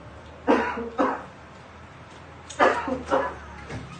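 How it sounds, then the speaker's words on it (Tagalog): Several harsh coughs in two bursts from a man coughing up blood, fairly close, with a quiet background between them. "ubo na may dugo"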